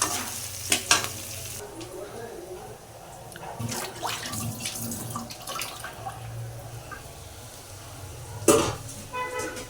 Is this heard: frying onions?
yes